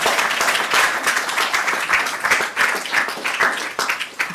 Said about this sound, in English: Everyone should clap at that.